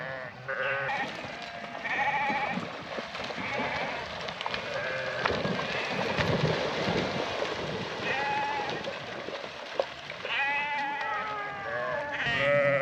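A herded flock of sheep bleats continuously, many overlapping calls near and far in a busy chorus, with some livestock movement and shuffling underneath.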